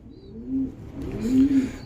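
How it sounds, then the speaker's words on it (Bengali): A pair of racer pigeons gives two low, drawn-out coos close to the listener, the second longer and louder, with a faint hiss of background noise behind. "এক জোড়া সবজি রেসার কবুতর"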